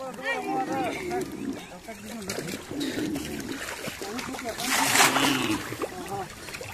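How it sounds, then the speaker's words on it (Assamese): Water splashes and sloshes repeatedly as it is thrown onto cows being bathed, while people talk over it, with one louder splash near the end. "বহুত দূৰলৈ চিটিয়াই দে"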